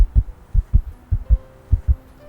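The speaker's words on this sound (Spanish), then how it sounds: "con el corazón explotándole y retumbándole, los latidos en sus oídos como un bombo gigante" Loud, deep heartbeat sound effect thumping in a steady lub-dub pattern, about seven heavy low beats over two seconds with nothing else around them.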